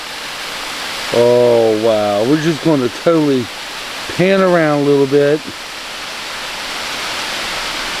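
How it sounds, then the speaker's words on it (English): Water pours steadily at the partly frozen Clifty Falls in winter, a constant near hiss of falling water while someone talks over it briefly. "This is one of Clifty Falls' beautiful waterfall."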